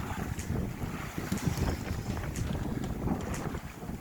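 A First 22 sailboat heels over in a passing gust on the ocean, with steady wind rush buffeting the microphone and water swishing along the hull throughout, loud and continuous.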